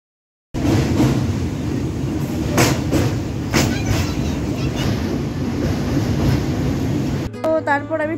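A passenger train out of Howrah runs along the line with a loud, steady rumble and rhythmic wheel clatter heard from inside the carriage, ending in a brief burst of other sound.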